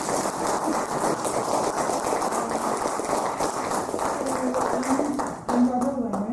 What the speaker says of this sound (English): You can applaud though for what you heard so far.